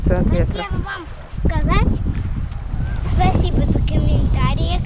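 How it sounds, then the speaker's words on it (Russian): Strong wind rumbles and buffets against a tent on the beach at Dzhemete near Anapa, a low, steady roar under close conversation. "Но все равно палатка колышется от ветра."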